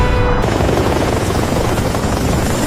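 Little Bird military helicopters, a loud, dense, continuous rotor-and-engine roar that fills the whole stretch without pause.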